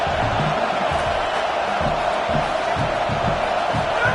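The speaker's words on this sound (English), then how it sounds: "This crowd even louder now on 2nd down as they try to hold on." A large American football stadium crowd in a video game roars steadily throughout, a dense continuous wall of cheering with low thumping beneath it.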